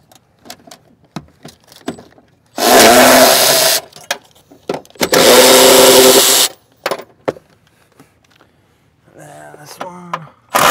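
A power tool pulls the rear seat backing fasteners in a Subaru STI, two loud sustained whirring bursts about a second each, separated by quiet clinks and handling noises, ending in a ratchety rattle.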